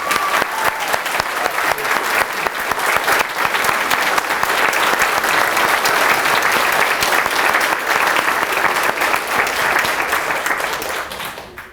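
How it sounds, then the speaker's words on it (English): An audience at the ribbon-cutting ceremony for the Appalachian Aquatic Conservation Center breaks into loud, sustained applause. The dense clapping holds steady for about ten seconds, then fades at the end. "Let's give him a great big round of applause."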